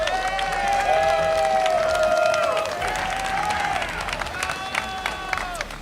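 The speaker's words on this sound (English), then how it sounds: "Big round of applause." Applause and cheering ring out from a crowd at the 300th Yu-Gi-Oh! TCG YCS in Richmond, Virginia, for a duelist leaving the stage, with sustained clapping in a large hall overlaid by loud tonal sounds from the venue.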